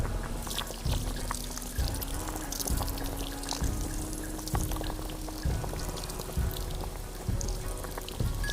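Shaoxing wine poured into a wok stir fry in the VR cooking game Lost Recipes, a soft steady trickling stream with faint repeated tapping beneath.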